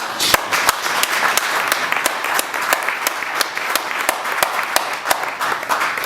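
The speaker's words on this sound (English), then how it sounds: "I would like you just to give them a round of applause." A large audience claps steadily at a donor event marking a Swedish Embassy health-funding pledge, a dense sustained wash of many hands with sharper individual claps standing out throughout.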